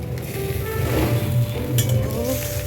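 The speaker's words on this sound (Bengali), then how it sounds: "এই কটা চিংড়ি মাছ দিয়ে এটাকে ভালো করে চিংড়ি মাছের সাথে ভাজতে হবে।" Prawns fry in oil with chili, garlic and onion, a close sizzle and crackle with occasional clinks of a utensil against the pan.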